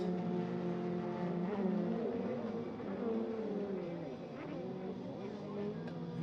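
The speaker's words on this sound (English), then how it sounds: "If you're wondering why that blue ski sounds different, that blue ski has a 3-cylinder 1050 Yamaha engine in it." Racing jet skis at an East Coast Watercross event, including a blue ski with a 3-cylinder 1050 Yamaha engine and Kawasaki 4-stroke machines, drone steadily at a distance with shifting, wavering engine pitch throughout.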